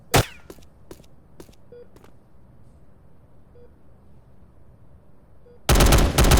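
Gunfire in the GTA San Andreas zombie mod: a few sharp, spaced shots at the start, then a loud, sustained burst of rapid fire near the end, with quiet between.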